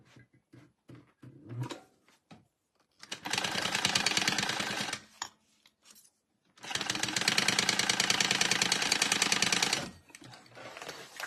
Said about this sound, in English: just turn it over or turn it around and sew down across on the main panels, not on the lining panels